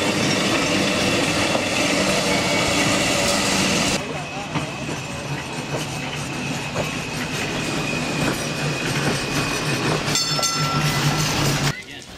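Restored heritage streetcar of the Edmonton Radial Railway Group running at Fort Edmonton Park, a continuous rolling rumble with rail clatter and some squeal, heard up close while a voice talks over it.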